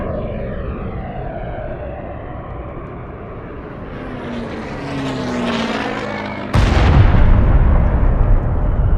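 Dozens of aircraft fly over Buenos Aires in a 1955 bombing raid, a loud steady engine drone sweeping past overhead before a sudden heavy blast takes over and rumbles on.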